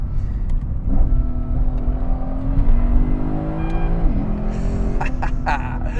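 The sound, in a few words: Lexus IS-F engine with aftermarket exhaust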